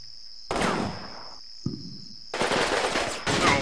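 Bursts of machine gun fire in the Combat Mission Red Thunder war game, loud, rapid rattling volleys separated by a short pause, with a steady high tone running beneath and no talk.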